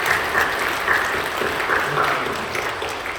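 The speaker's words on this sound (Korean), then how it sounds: "우리 격려하는 박수해 주시죠" A church congregation applauds during a Sunday worship service, a steady, dense wash of clapping from many hands that holds at an even level throughout without a break.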